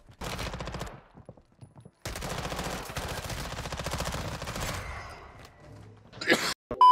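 Gunshots in Call of Duty Mobile ring out as rapid automatic bursts, loud and close, with short pauses between the strings of fire and a few sharp hits near the end.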